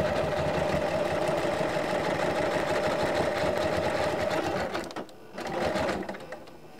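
A sewing machine runs a utility stitch on a vintage linen quilt wall hanging with a steady, even mechanical whir. It pauses briefly, then starts again for a short final burst.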